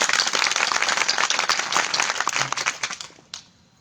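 Men in a kirtan audience clap hard and fast in a thick, loud burst of applause that holds for about three seconds before breaking off into a few last scattered claps and quiet.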